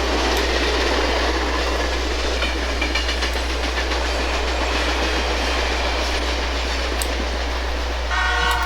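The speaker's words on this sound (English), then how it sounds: "This could even actually be the Conrail main line west to South Bend." Conrail freight train passing on the main line west to South Bend, a loud continuous rumble with rhythmic wheel clatter, heavy low-end drone and a brief horn-like tone near the end.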